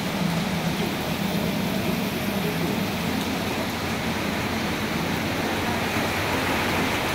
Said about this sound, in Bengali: বৃষ্টি বিধৌত টিনের চালের উপরে যে শব্দ হয়